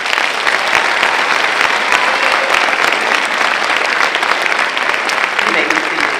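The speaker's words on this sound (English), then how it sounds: "Please give them a round of applause." Sustained, even applause from a large audience at the 2019 Matthew C. Perry High School graduation ceremony, dense clapping holding steady throughout.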